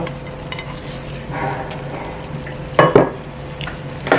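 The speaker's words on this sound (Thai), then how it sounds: "แล้วก็คลุกแค่พอใบกะเพราเขาสลดนะคะ" Holy basil leaves are tossed in a hot pan during a stir-fry, with a soft sizzle under a spatula scraping and a couple of sharp metallic clanks near the end.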